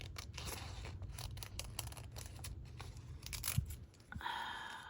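Scissors snipping through paper for a craft journal, close and quiet, with a steady run of small cutting and rustling sounds and no talking.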